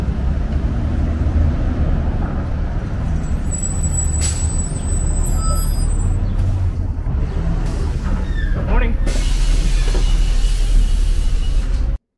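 A Calgary MAX Purple rapid transit bus sits in street traffic behind cars, with a loud, steady engine and road rumble running throughout and a brief hiss like an air brake partway through.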